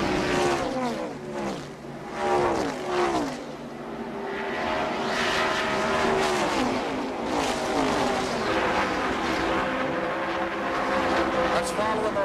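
Stock cars at the 1981 Daytona 500 roar down the 3,500-foot back straight at Daytona Speedway, loud engines sweeping past with rising and falling pitch, packed together, under an announcer's commentary.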